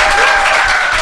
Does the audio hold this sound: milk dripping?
no